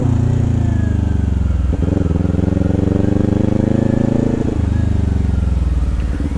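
A 2021 Kawasaki Ninja 400 motorcycle engine runs close and loud, a steady low rumbling drone with slight dips in its throb, no talk over it.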